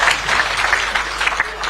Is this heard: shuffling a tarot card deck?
no